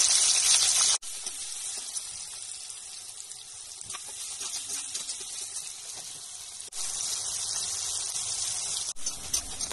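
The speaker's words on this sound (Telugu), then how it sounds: "ఆయిల్ బాగా వేడెక్కిన తర్వాత కాకరకాయ ముక్కల్ని వేసి బాగా ఫ్రై చేయండి" Bitter gourd (kakarakaya) pieces fry in hot oil in a pan, giving a steady, dense sizzle that drops briefly and then swells louder again near the end.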